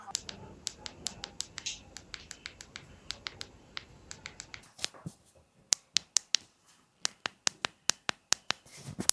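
A phone's buttons being pressed, giving a rapid series of crisp, sharp clicks close to the microphone, irregular at first and then spaced more evenly and louder, with no talk.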